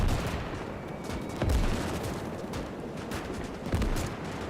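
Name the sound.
machine gun firing in video game Call to Arms - Gates of Hell: Ostfront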